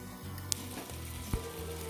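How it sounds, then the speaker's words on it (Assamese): Duck meat frying with spices in a pan over a fire gives a soft, continuous sizzle that stays even and fairly faint, with a couple of tiny crackles and no talking. "মাংসখিনি মই 20 মিনিটমান ভাজি ল'লোঁ।"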